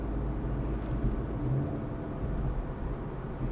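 A tuned dual-clutch car accelerating in fifth gear below 2,000 RPM, a steady, loud low engine drone with a slight swell, heard close and alone without talk.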